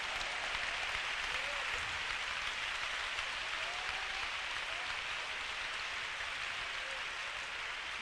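A church congregation claps together in a steady, even wash of applause that runs the whole time at moderate distance, with no talking over it.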